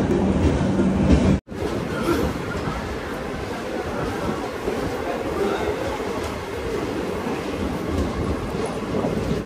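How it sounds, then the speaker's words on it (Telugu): A train passing on the opposite track beside a halted express at a small Chennai-area station, a loud continuous rumble and clatter of wheels after a brief silence, with faint background voices. "సో ఆపోజిట్లో మనకి ఏదో ట్రైన్ అవుతుంది."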